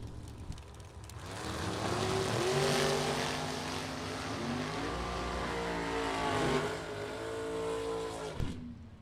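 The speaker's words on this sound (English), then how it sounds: "Should be a good drag race." Drag racing cars at a Super Pro bracket race roar down the strip, engines rising and holding in a loud sustained rumble with shifting harmonics, then cutting off sharply near the end.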